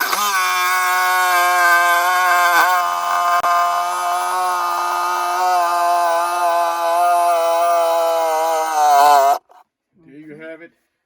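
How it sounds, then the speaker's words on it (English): A jigsaw cutting semi-soft wood runs with a loud, steady motor whine and strong buzzing harmonics for about nine seconds, then stops abruptly, followed by a brief softer tonal sound. "the jigsaw is just a great way to do this on this semi-soft wood"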